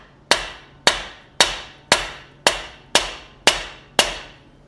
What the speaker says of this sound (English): when we start hammering this, it doesn't fall all the way out, but it'll just drop onto that castle nut